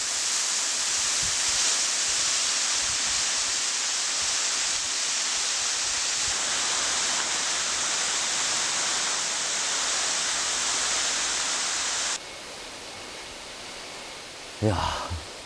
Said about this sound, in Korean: 서늘한 물소리를 듣고 있으니